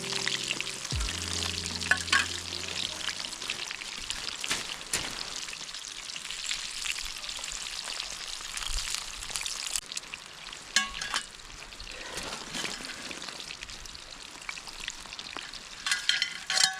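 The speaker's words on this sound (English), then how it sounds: "deep frying in the rain might have not been the best decision" Rockfish deep frying in oil over an outdoor campfire in Alaskan rain, a dense continuous crackling sizzle with occasional sharper pops and stirring noises, close and fairly loud.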